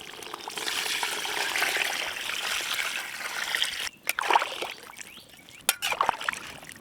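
Water is poured into a pot to cook Savaji-style turkey meat, a steady close splashing stream for several seconds before it tapers into scattered clinks and drips.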